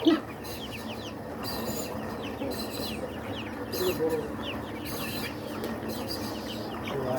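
Quails being handled and weighed: soft clucking and chirping calls from several birds come in repeated bursts alongside handling noises and people talking.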